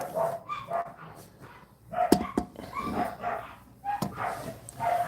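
Several dogs bark and yip nearby in short bursts, with a couple of sharp knocks in the middle and a muffled room background.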